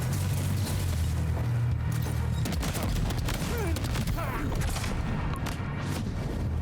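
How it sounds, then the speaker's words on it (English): Repeated shotgun blasts in Death Stranding 2 fired at heavily armored enemies, a loud, busy stretch of bangs and impacts layered over rumbling battle noise, with no talk. "they're not armored enough, though, to stand up against these shotgun shots"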